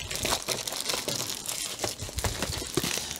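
Cellophane sleeves from a large diamond painting kit crinkle and crunch continuously, close and fairly loud, with sharp bursts of rustling throughout and no talking.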